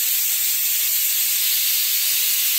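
A pressure cooker vents steam in a loud, continuous, close hiss that holds steady without a break.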